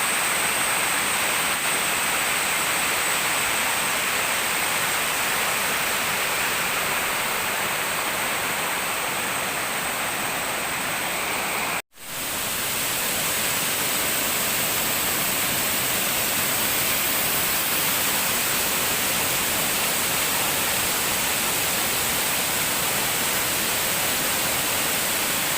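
Clear water rushes over rocks in a fast-flowing stream, a loud, steady broadband roar that holds unchanged, with one brief dropout midway and no voices.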